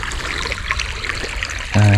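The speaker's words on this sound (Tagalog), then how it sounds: "Medyo mabagal umusad yung tubig nito" Water from a shallow river, pumped onto very dry ground, trickles and dribbles slowly in a soft continuous wash, then a loud low motor-like hum cuts in near the end.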